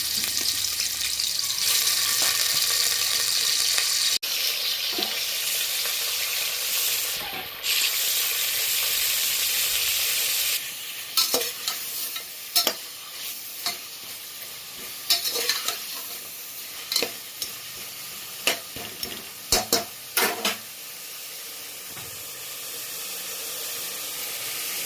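Mutton chops sizzle loudly in hot oil, a steady frying hiss, later broken by scraping stirs and clinks as they settle.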